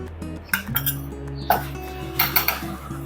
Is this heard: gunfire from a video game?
no